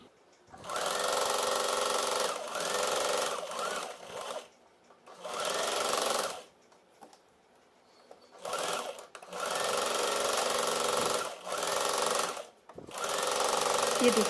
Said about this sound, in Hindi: इस लाइन पर हम सिलाई लगा देंगे।